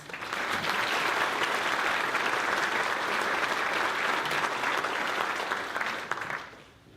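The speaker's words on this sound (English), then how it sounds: "Let's give these sponsors a round of applause" Audience gives a sustained round of applause for local sponsors at a community event in Kansas, steady dense clapping throughout that fades out in the final second.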